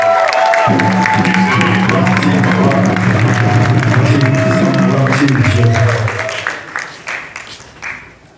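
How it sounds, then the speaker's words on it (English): An audience at the official Panafest 2023 launch breaks into sustained applause and cheering with some whoops and voices mixed in, loud and dense before thinning out to scattered claps near the end. "can we all just clap to make some sound and noise for appreciation of our African"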